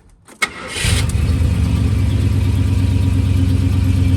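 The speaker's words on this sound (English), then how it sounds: "It's a big old rumbling 8-cylinder." A 1971 Ford Sports Custom truck's 8-cylinder engine cranks briefly, catches and settles into a loud, steady, deep rumbling idle, close by with no talk.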